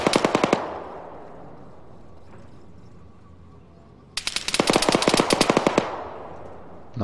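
Automatic weapon fire in the Arma 3 military video game: a short rapid burst, a quieter stretch of ambient background, then a longer fast burst of close, loud shots.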